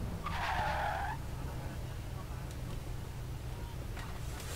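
Car tires skid and squeal through a failed drift in the Forza Horizon 3 racing game, a short sharp screech over a steady engine drone, with a voice talking over it.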